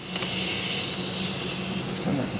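During a Toyota Camry lower control arm job, an air gun and compressor give off a continuous hiss with a rough, rasping texture at moderate loudness. It runs steadily with no speech.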